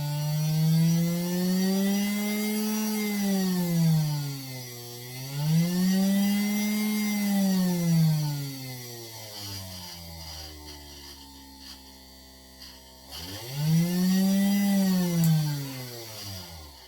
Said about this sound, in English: Here's a bigger 12 volt motor.